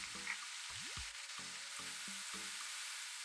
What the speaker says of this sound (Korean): 양파를 8분 튀기듯이 볶을게요